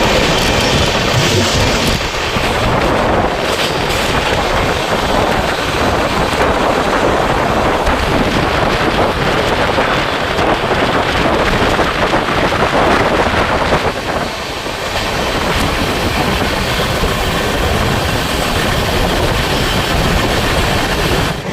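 A new passenger train rolls along just after leaving Chaparmukh Junction in Assam, giving a loud, continuous rumble and rattle mixed with heavy wind rush at the microphone, with no voices.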